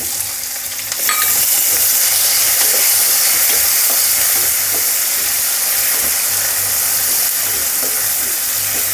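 Chopped onions with tomatoes sizzle steadily in hot oil over a low flame while being sautéed for vaghareli khichdi, a continuous close frying hiss with faint stirring clicks throughout.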